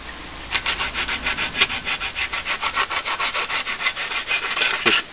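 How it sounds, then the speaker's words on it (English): Sandpaper rubbed back and forth over the sharp edge of a wooden knitting needle held in a vise, a steady series of about two dozen rhythmic, scratchy strokes, close and clear with no talking. "Just round that sharp edge off with the sandpaper"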